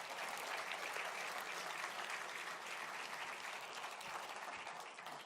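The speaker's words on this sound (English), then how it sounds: "big applause" Audience applause at a Phonak hearing aid launch event, a sustained, even wash of many hands clapping, heard at a low level and slowly fading toward the end.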